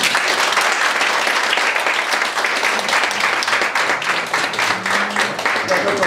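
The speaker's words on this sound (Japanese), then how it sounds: "拍手。" Applause from a small group watching a darts lesson, close and busy clapping with scattered claps and a few faint voices mixed in.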